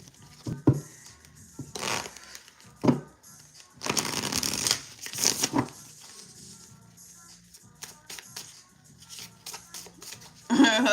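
Motivational cards shuffled by hand in a series of papery riffling bursts, loudest in one longer run midway, with brief voices and small thumps between the shuffles.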